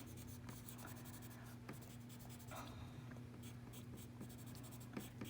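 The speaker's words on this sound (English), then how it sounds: "I'm going to really kind of load my pencil into there, let it curve up." Graphite pencil shading hair on paper in a close-up drawing session, a steady continuous scratchy rasp with a few brief accented strokes, near and alone over a low background hum.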